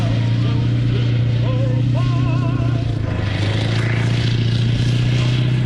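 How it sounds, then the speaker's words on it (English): A Rolls-Royce Meteor tank engine idles at a British Army military show, a steady deep low rumble held throughout behind crowd murmur and scattered voices, with faint clatter and scraping near the arena. "the engine noise taking place behind you as you're looking at the arena, that is the Meteor engine being ticked over"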